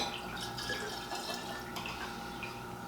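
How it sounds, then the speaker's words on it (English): Buffalo Trace bourbon trickling from a bottle into another bottle, a soft continuous liquid pour with light gurgling, close and quiet, no talking. "So let's do the pour into the infinity bottle."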